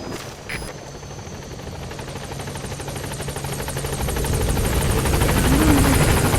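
The B-Quad support helicopter in Metal Gear Solid V: The Phantom Pain approaches the landing zone, a steady rotor thump and turbine whine that grows gradually louder and closer.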